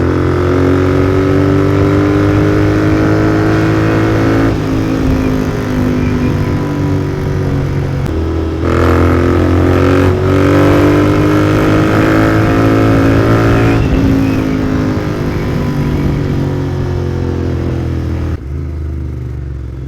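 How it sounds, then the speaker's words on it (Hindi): Royal Enfield Interceptor 650 motorcycle with a Code 6 tune, its engine revving hard in loud, sustained bursts with a dense harmonic drone and brief dips between pulls, close up throughout. "थोड़ा अभी अगर मैं रेव करूँगा हार्ड तो डेफिनेटली मेरे को जो है फ्लेम देखने को मिलेंगे"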